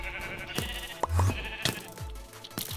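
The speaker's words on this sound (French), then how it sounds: "voilà, le mouton d'abordage" Sheep bleat in Minecraft, several short, loud calls in quick succession amid clicking game sounds, up close with no talking.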